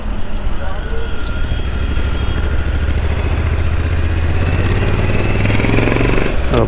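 A big Harley-style motorcycle idles nearby with a steady low rumble and a faint clatter, holding constant throughout, with a person talking over it.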